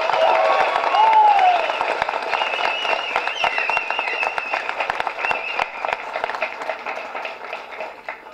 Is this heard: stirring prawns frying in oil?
no